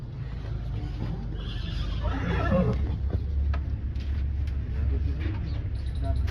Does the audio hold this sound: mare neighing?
yes